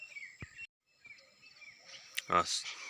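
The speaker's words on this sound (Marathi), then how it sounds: "सकाळ सकाळची वेळा पक्ष्यांचा चिवचिवाट मस्त ऐकू येत असेल इथं आत्ता" Faint birds chirp with thin, high calls in a quiet morning sorghum field, with a few brief louder rustles and clicks near the end.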